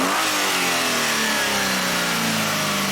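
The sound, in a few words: Hyundai Sonata engine revving up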